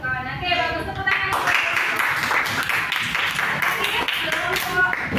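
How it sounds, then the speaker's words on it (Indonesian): A classroom group of students claps together, a dense burst of hand claps that sets in after a second and runs steadily, close and loud, with some voices mixed in. "Oke, bagus, tepuk tangan."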